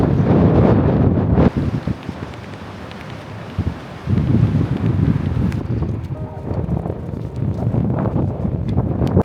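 Strong winter wind on a mountain ridge in the Karawanks, roaring in gusts that buffet the microphone, loud and continuous throughout.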